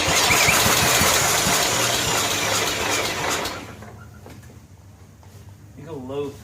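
A John Deere STX38 lawn tractor engine on choke, one with a backfiring fault, roars loud and rough for about three seconds, then cuts out, leaving quiet background with a voice near the end.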